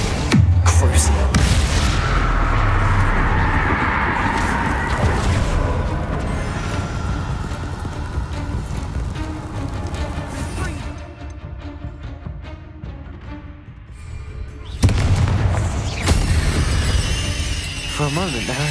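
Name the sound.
spell explosions in the video game Hogwarts Legacy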